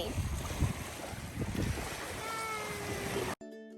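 Ocean waves wash and churn at a beach with wind noise, steady and fairly loud, before cutting abruptly to a brief tonal musical sting.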